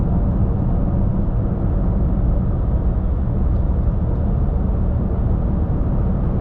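A Fisker Karma accelerating in sport mode, heard from inside as a steady, loud broadband rumble of road and drivetrain noise that holds even throughout, with no voices.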